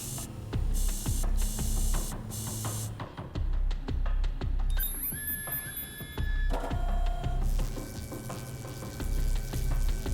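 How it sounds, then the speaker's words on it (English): A large printer cranks out counterfeit yen in the video game Yakuza: Like a Dragon. It makes a steady run of heavy mechanical thumps and clatters, then whirring and high whining tones with a continuous hiss beneath. "Okay, it's like a big 3D printer?"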